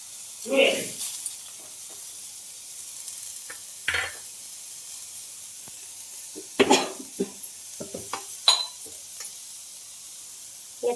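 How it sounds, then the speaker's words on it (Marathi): Onion frying in a little oil on a tawa produces a soft, steady sizzle, punctuated by a few brief stirring scrapes and short bursts of a voice. "एक दीड चम्मच तेल टाकायचं त्याला चांगला लालसर होऊ द्यायचा आहे कांद्याला"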